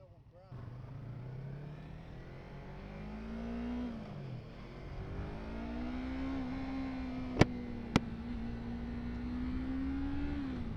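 A Yamaha MT-03 motorcycle riding on gravel, its small engine humming steadily with a slowly shifting pitch, a continuous rumbling tone and two sharp clicks near the end.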